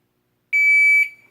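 A shot timer set to a random start gives one sharp, loud electronic beep lasting about half a second, then a brief ringing tail, with silence before it.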